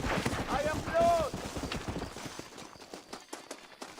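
Horse hooves clip-clopping in Red Dead Redemption, a steady quick rhythm of close hoofbeats under someone talking, later running on alone as a lighter, more scattered patter.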